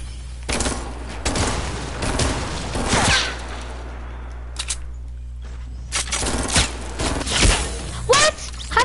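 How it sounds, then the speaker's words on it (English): Rapid gunfire in a Fortnite match, bursts of sharp shots and impacts spread across the stretch with brief gaps, ending in a sniper kill from long range; loud and near over steady game ambience. "I got sniped from 134 meters away."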